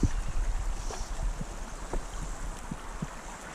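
A fairly open mountain creek, a Dolores River tributary in southwest Colorado, flowing as a steady low rush with a few soft splashes and gurgles, moderately close and continuous, without talking.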